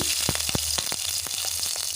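Spices and green chillies crackle and sizzle in hot oil in a kadai, a steady bright frying hiss close by, broken by sharp spitting pops at irregular intervals.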